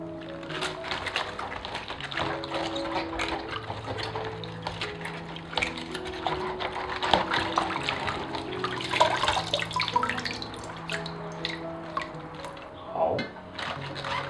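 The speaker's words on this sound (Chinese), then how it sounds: "所以使用饮用水清洗一下" Pickled cabbage is rinsed with drinking water to wash off grit, producing running and splashing water with handling clatter and rustles, fairly close and continuous.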